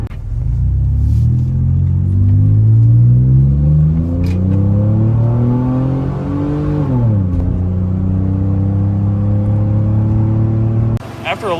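The Dodge's Mitsubishi 6G72 V6 pulls loud and close while driving, its engine note climbing through a gear then dropping after a shift, with steady road rumble underneath.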